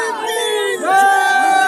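Excited crowd at a welcome rally for Chhattisgarhiya Kranti Sena state president Amit Baghel on his release, voices shouting and cheering close by in a brief loud burst.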